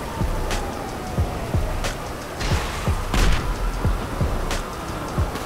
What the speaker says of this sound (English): He's trying to shoot me down.